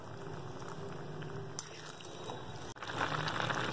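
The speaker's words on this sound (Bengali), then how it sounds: "এই ঝোল ফুটছে" A pot of Bengali tangra fish curry broth, with onion stalks, brinjal and coriander leaves, bubbles at a steady rolling boil, a close and continuous watery burble with a brief dip near the end.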